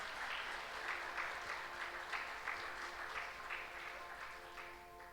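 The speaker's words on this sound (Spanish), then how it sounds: "Dale un aplauso al Señor Jesucristo en esta mañana." A church congregation claps during a morning service, a dense, steady patter of many hands that stays fairly soft and distant for several seconds.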